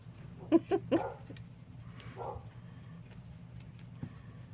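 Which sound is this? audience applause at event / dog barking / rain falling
dog barking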